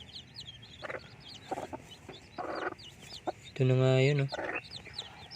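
Newly hatched native Rhode Island Red chicks peep in short, high chirping bursts close by, with one louder hen-like squawk partway through and a brief spoken remark.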